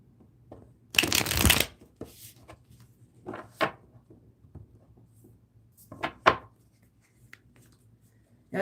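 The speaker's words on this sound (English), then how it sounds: "Let me shuffle here." Tarot cards shuffled by hand in a quiet room: one long dense riffle burst, then a scatter of shorter taps and flicks as the deck is squared and cut, close and fairly soft, with no talking.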